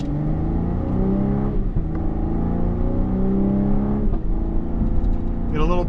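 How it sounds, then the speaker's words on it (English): 2025 Cadillac CT5 Premium Luxury sedan accelerating hard through paddle-shifted manual upshifts, a steady engine drone with brief dips at each shift and a faint crackle near the end, under a voice. "Get a little pop out of that exhaust"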